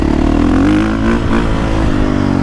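A 2022 KTM 450 Factory Edition motorcycle engine, set to map 2 with traction control off, revs loudly and close up, a deep barking drone that rises and holds steadily, with no voices.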